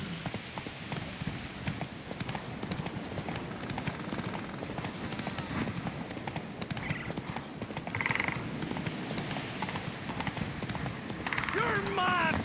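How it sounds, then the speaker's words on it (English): Horse hooves clip-clop steadily at mid-distance in Witcher 3: Wild Hunt, a continuous rhythmic trot heard under talk. "Whoa there, Roach"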